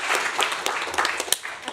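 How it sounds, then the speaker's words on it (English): Brief applause from a panel audience at an aerospace industry event, a steady patter of many hands at moderate volume with no talk, tapering near the end. "Can we please give another round of applause for Nikki Vasey"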